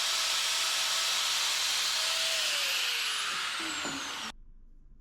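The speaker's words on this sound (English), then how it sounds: "We're going to cut this off with a cutoff wheel." A cutoff wheel grinds through a gas pedal part with a loud, steady high-pitched hiss and whine that drifts slightly lower in pitch, then stops abruptly near the end.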